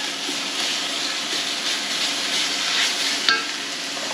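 Ground meat for cheeseburger macaroni hitting a preheated pot, a continuous close sizzle and hiss with a small clatter near the end.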